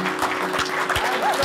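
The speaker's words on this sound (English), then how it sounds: "Well done, round of applause." A short burst of applause rises from a small gathering celebrating a team's win, dense clapping that stays steady for about a second and a half with voices mixed in.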